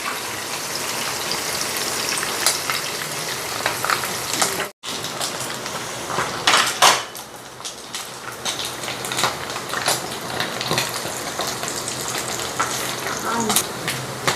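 Salai fish (sardines) frying in hot oil give off a dense, continuous crackling sizzle that stays close and loud throughout, broken by one brief dropout and a few louder spits.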